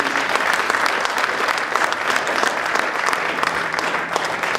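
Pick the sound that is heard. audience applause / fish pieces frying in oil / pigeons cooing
audience applause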